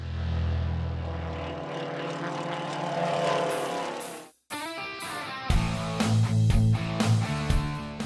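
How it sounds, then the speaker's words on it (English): Propeller race aircraft roar past at Air Race 1 at Utapao Airport, a loud droning engine sweeping in pitch, cut briefly, then returning as another close, throaty prop engine passes. "8 aircraft racing at speeds of over 450 kilometers an hour"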